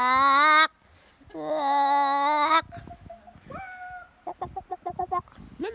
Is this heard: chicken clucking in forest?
yes